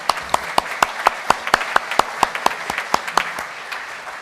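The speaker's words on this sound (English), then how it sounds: "let's give a round of applause for Pat Mikes." A round of applause at a Rotary Club luncheon meeting: a small room audience claps in a steady rhythmic patter of distinct, fairly close hand claps, fading near the end.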